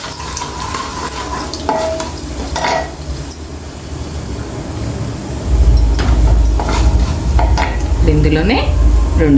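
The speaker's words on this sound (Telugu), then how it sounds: "ఇప్పుడు ఇది ఆయిల్లో పోసి దినుసులండి కొంచెం మినపప్పు జీలకర్ర ఆవాలు" Urad dal, cumin and mustard seeds fry in hot oil for a bitter gourd curry, a loud close sizzle with spoon scrapes and clinks against the pan, the sizzle growing stronger toward the end.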